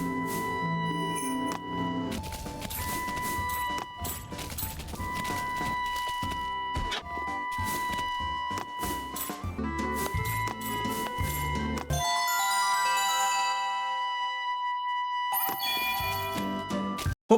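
Jingle bell proximity chime from the Rudolph video game, a busy run of bright tinkling tones and layered game music, near and loud, repeating throughout with no voices.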